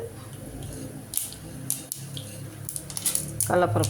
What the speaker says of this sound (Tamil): இப்போ வந்து நிலக்கடலை போடுறேன்.